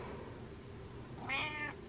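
A cat meows once, a clear drawn-out call standing out near and alone over faint room quiet.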